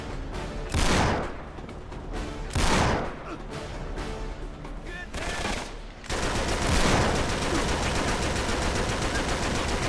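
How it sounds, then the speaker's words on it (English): Uncharted 3: Drake's Deception gameplay gunfire: loud bursts of rapid shots and heavy booms in a firefight, building into a dense, continuous barrage of fire. "Somebody is shooting me."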